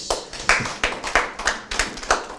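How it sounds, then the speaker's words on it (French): Sparse, separate handclaps from a small audience at a religious class, several distinct sharp claps spaced irregularly over two seconds in a reverberant room. "vous pouvez l'applaudir"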